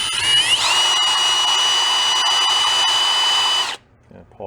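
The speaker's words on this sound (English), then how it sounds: "Let's go in with a drill." A small electric drill whines steadily at high speed while cleaning a part of an antique gas-powered drill. It spins up, holds a loud, even pitch for about three seconds, then stops abruptly, leaving quiet handling noises.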